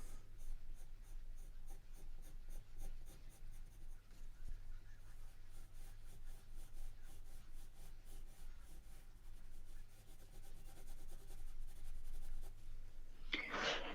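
Pencil scratching steadily across paper during a live drawing lesson, a soft continuous rasp over low background hum, ending with a brief louder rustle.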